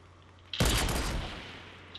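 A single loud sniper gunshot in a shooter video game cracks sharply, then decays into a long fading echo over about a second and a half.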